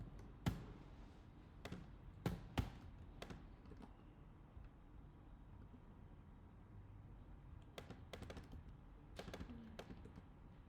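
Keys are tapped on a computer keyboard in scattered bursts of sharp clicks, a few louder strikes standing out, recorded close in a quiet room.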